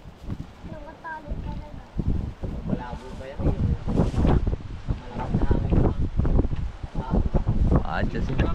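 A strong seaside wind blows ahead of an approaching typhoon, roaring and buffeting the microphone in loud, uneven surges that build through the stretch, with people talking in the background.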